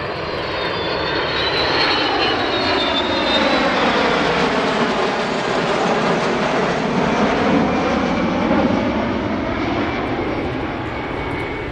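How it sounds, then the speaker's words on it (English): A KC-135R Stratotanker flanked by F-16C jets passes over an airshow in London, a loud continuous jet roar with a sweeping Doppler rise and fall as the formation flies by, with no voices. "KC-135R Stratotanker flanked by F-16Cs"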